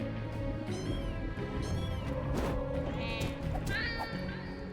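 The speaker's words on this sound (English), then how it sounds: "the cat noise as it goes down as it dies" A cat-like yowl rings out from a dying ghostly enemy in the dungeon-crawler game Spiral Knights, rising meows set over busy game music and combat clatter, repeating in short bursts throughout.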